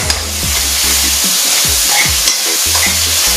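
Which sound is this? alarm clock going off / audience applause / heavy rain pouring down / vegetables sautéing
vegetables sautéing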